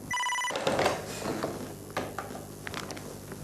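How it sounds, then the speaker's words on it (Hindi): A telephone bell rings in a short electronic trill at the very start, then stops, followed by faint handling clatter and knocks in a quiet room. "क्या सुनंदा का फोन है?"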